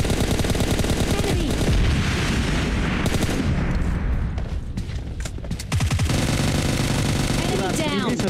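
Rapid gunfire bursts and explosions from a multiplayer shooter game with RPGs in a zone, loud and continuous, mixed with players talking over voice chat.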